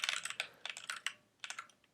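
Quick bursts of keystrokes clatter on a computer keyboard while code is being written in an editor, close and fairly quiet, with short pauses between clusters of taps.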